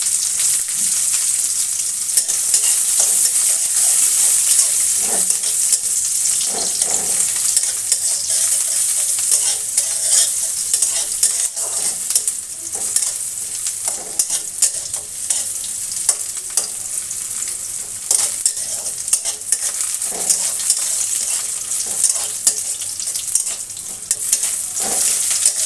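Chopped onions fry in hot oil with a torn bay leaf in a pan for a cauliflower, katla fish and new potato curry, a continuous loud sizzle broken by repeated scraping strokes of stirring, with no voices.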